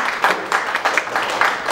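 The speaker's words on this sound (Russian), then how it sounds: "Ваши аплодисменты!" An audience claps for a guest being welcomed at an evening event at the Bukvoed bookstore in St Petersburg: a short, fairly loud burst of clapping that swells in uneven pulses, with no voices.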